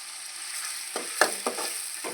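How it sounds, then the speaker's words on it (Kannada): Garlic paste frying in oil for pav bhaji, a soft steady sizzle with a few brief scraping stirs, close and quiet, with no voices. "ಈಗ ಅಲ್ಲ ಬೆಳ್ಳುಳ್ಳಿ ಪೇಸ್ಟ್ ಹಾಕೋದು"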